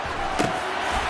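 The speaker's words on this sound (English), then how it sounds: "The crowd getting into it as we come up on a big 3rd down" A football stadium crowd cheers ahead of a big third down, a brief, steady roar of distant voices with a faint shout rising out of it.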